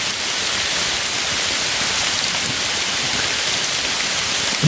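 Heavy, steady rain pours down close by as a continuous dense hiss that stays level throughout, with no voices.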